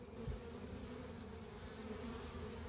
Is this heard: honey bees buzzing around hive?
yes